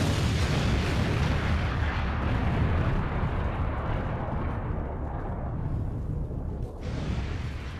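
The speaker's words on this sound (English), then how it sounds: "Dracula is on fire, so Dracula gets an explosion" A game-show style explosion sound effect plays: a sustained, loud rumbling blast roar that fills several seconds with dense low boom and crackle before easing slightly toward the end, alone without talk.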